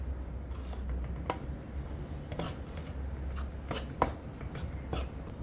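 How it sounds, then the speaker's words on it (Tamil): Freshly roasted wheat flour is tipped from a hot pan into another vessel, giving a dry rustle broken by light metallic scrapes and taps of a spoon against the pan at irregular intervals, close and moderately loud. "நாங்கள் இதை எடுத்து இன்னொரு பாத்திரத்தில் கொட்டிக்கிடுவோம்"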